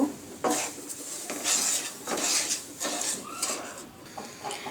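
Sugar being stirred in a pot for pumpkin murabba. A metal spoon scrapes and clinks against the pot in a string of irregular, fairly close strokes, with no talk.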